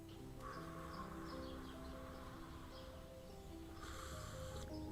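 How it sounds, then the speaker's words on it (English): Birds call in the morning, a few crow-like caws sounding faintly over a dense background of hum and music-like tones. "Ah, the sounds of morning. Early in the morning, Birds singing."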